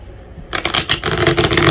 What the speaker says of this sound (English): a couple shuffles here for Gemini, and then we're going to throw down some tarot cards here